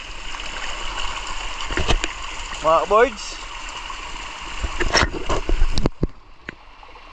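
Heavy rain downpour sends floodwater rushing across a farm setting as a steady, loud wash of noise that runs throughout, with people talking over it.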